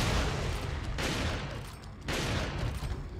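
Striker shotgun blasts in Resident Evil 4 on Professional difficulty, two heavy booming shots about a second apart over dense, continuous game noise.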